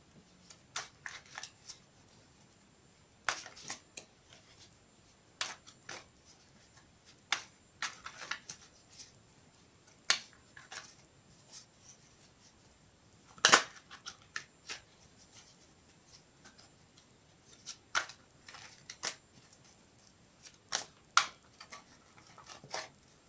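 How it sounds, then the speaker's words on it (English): Tarot cards, a Modern Witch Tarot deck, being shuffled in repeated quick riffles and snaps, close and crisp, with brief pauses between bursts and no talking. "I will shuffle them again for you on camera"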